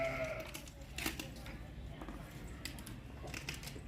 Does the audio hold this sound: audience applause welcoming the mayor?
no